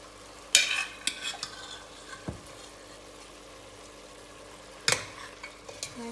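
Dalcha cooking in a pot after water goes in, a low steady bubbling simmer broken by a few sharp metal spoon scrapes and clanks against the pot, close and without talk.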